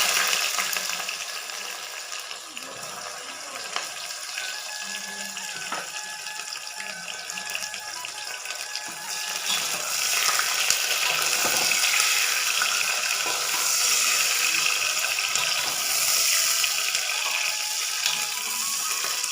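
Sliced onions hitting hot oil already seasoned with whole cumin and dry spices, a steady loud sizzle and crackle that swells midway and continues alone without talk.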